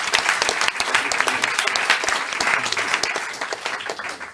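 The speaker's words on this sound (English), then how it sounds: "We're going to give a big round of applause to our panel." A talk show audience claps for a panel on plastic recycling, with a dense, crisp round of applause from a nearby crowd that runs steadily, then tapers off at the end.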